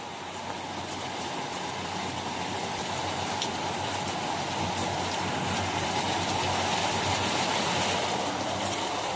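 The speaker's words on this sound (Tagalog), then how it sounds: "Sobrang lakas ng ulan at hangin." Heavy rain pours steadily with strong wind during a summer storm, a dense, unbroken roar that stays loud and close throughout.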